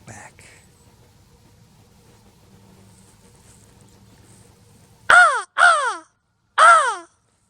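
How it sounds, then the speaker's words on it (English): In Hoosier National Forest, near silence with faint background noise gives way to three loud, close crow caws, two in quick succession and then one more after a short pause. "There's a crow over here talking"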